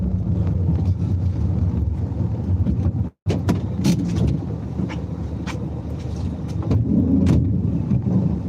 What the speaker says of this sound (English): It's just a cold wind.